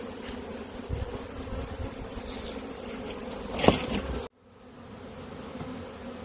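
Honey bees buzz steadily around a hive frame being shaken during a brood frame inspection in Michigan, a dense close hum with a brief louder burst before it cuts off abruptly.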